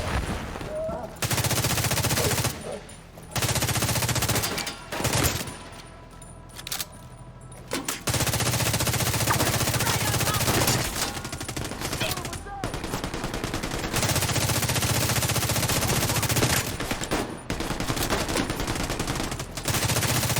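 Sustained automatic gunfire in Tom Clancy's The Division 2, long loud bursts of rapid shots broken by short pauses, dense and close throughout.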